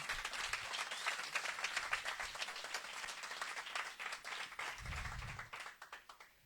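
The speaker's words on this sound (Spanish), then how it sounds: "Le damos un fuerte aplauso al Señor" A church congregation applauds during a Spanish-language gathering, a lively crowd clapping with quick, uneven bursts that taper off toward the end.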